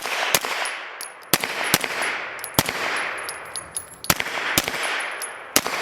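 Suppressed 9mm handgun shots through a CGS Mod 9 SK suppressor, a string of sharp reports spaced unevenly about half a second to a second apart, each with a ringing tail, loud and outdoors-sounding, with no talking.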